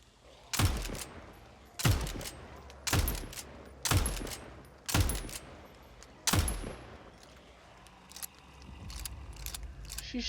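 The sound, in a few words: gunfire from an enemy in the video game Nightingale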